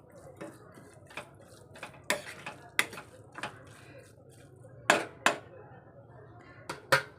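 Onion and tomato bhaji stirred in a pan, heard as scattered sharp clacks and taps of a spoon against metal at an uneven pace, close and fairly quiet.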